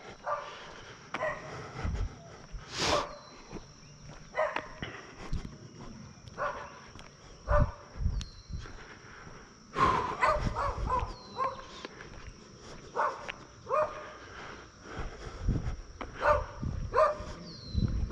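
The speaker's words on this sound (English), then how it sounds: "Pretty little beagles though, ain't they?" Beagles out hunting bark in scattered, moderately distant yaps and bays, with footsteps and outdoor movement between the calls.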